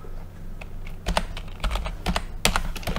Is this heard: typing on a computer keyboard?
yes